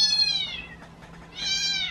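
A recorded cat meows twice from a phone speaker, two clear drawn-out meows separated by a short pause, close and fairly loud indoors.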